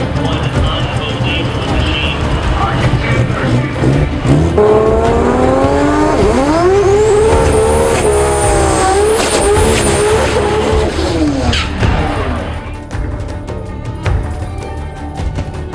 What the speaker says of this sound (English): the crew begins a tire braking session with a few burnouts before doing their first passes